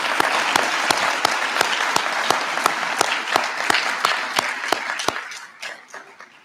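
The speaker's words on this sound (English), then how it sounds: "please, a round of applause?" Audience at a high school awards night bursting into a loud, dense round of applause with sharp individual claps standing out, holding steady for several seconds and then tapering off to scattered claps.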